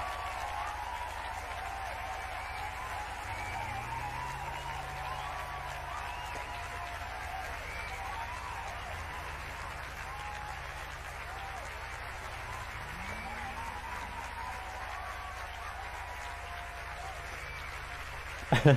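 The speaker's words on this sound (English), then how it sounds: "There goes the clapping." A prerecorded applause sound effect plays during a live stream, steady continuous clapping and crowd noise running at moderate level throughout, with a few faint voice-like tones beneath it.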